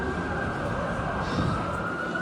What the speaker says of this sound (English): Oh, hang on, there's a siren, bear with.